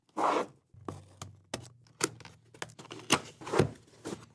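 Keychron K2 keyboard packaging being opened: a run of short rustling, tearing and scraping bursts of cardboard and plastic, close and fairly loud, with no talking.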